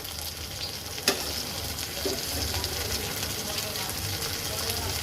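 Onions sizzle steadily in a hot pan as ginger-garlic paste goes in, with a faint soft clatter near the one-second mark and a continuous close frying hiss throughout.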